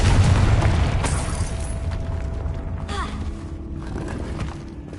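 The Confringo fire spell in Hogwarts Legacy on PS5 hits with a heavy booming blast, and a rumbling tail fades over several seconds with creaks and a brief whistling sweep.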